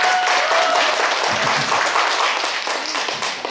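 Outdoors at a Suanbo special stage, a crowd at a gakseori variety performance claps in a steady, close wash of applause that eases slightly toward the end, with a faint voice underneath.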